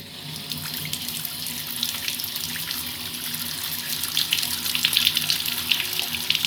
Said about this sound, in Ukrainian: Ось сьогодні у нас ось така в Луцьку вода.